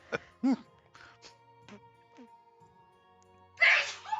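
A person sneezes close by, a sharp burst near the end after a few short vocal sounds and throat noises, with quiet room tone between.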